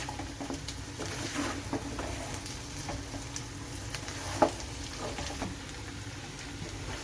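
Mutton fry sizzles quietly in a pan while it is stirred, giving a soft continuous crackle with light scraping and one brief louder clink, and no talking.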